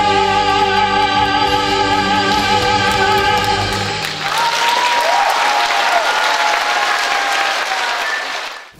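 Warm applause fills a concert hall at a charity concert as a song's final sustained notes fade, then the audience claps loudly and steadily before it tapers off at the end.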